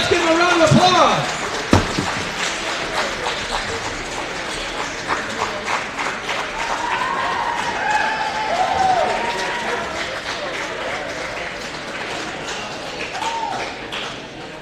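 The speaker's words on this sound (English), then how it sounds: "Let's give him a round of applause." Crowd applause in a high school basketball gym after a player scores his 1,000th point, Flambeau Falcons against Bruce, loud at first then fading to a steady clapping wash with crowd murmur and brief voices over it.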